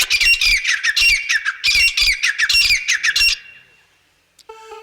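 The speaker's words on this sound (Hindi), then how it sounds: "मेरे भगवत प्रेमियों मोरों की आवाज आती है।" Peacocks give loud, harsh, repeated squawking calls in rapid overlapping bursts for several seconds, then fall silent before a faint electronic tone at the end.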